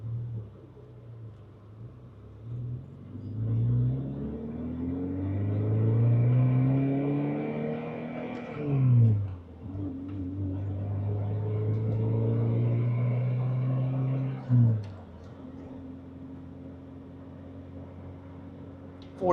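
A Strosek Gemballa-bodied Porsche 944 Turbo pulls away in first gear: a close, steady engine rumble climbs in pitch as it revs, drops at each gear change, then climbs again, with no one talking.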